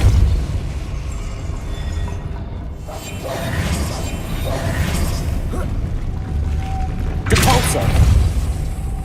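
A Depulso force-push spell cast in Hogwarts Legacy: dense game audio with thumping impacts and a sharp bright burst near the end, over a steady layer of background game sound.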